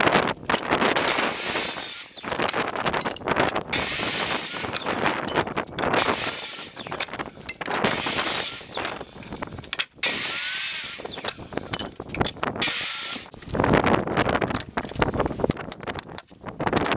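Power tool cutting through pallet wood for a porch swing, a loud, close, nearly continuous harsh grinding roar with brief dips and pauses.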